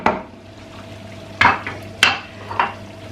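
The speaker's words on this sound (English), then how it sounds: "Give the banga soup a stir." Banga soup being stirred in a pot, with three distinct spoon knocks and scrapes against the pot rim spaced about half a second apart, close and clear, with no talking.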